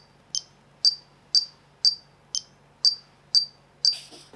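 Metronome clicking in 4/4 time: eight sharp, evenly spaced high clicks about half a second apart, close and clear with no talk, while a broader noisy burst follows at the end.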